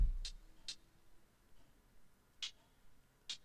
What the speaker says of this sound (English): I put a second set of hi-hats, and then I panned them out